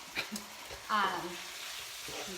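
Ground beef for a burger in chili sizzles quietly in a pan, a soft crackle with a faint stir partway through, heard under a murmur of voice.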